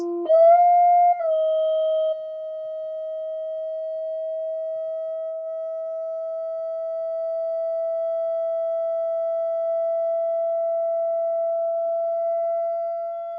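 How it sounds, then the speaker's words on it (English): A steady pure sine tone around 690 hertz holds for over ten seconds after a few brief pitch shifts at the start, clear and constant in loudness. "let's look for that second most annoying sound around 690 hertz"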